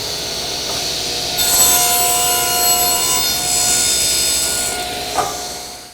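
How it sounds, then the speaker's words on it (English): A table saw blade cuts a kerf into a wooden auxiliary fence: the motor hums, then a loud, high, steady cutting whine rises for several seconds before winding back down, close and alone. "I made a pass through the saw blade to create this kerf"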